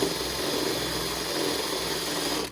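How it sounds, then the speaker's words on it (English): A power drill boring into a body panel of a wrecked 2021 Mercedes A220, heard as a steady, loud, close whirring grind that cuts off abruptly at the end. "you'll see as you're drilling"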